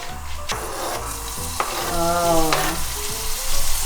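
Loud, steady sizzling of ginger and garlic frying in hot oil, crackling throughout with a few sharp clinks of a utensil and a faint hum underneath.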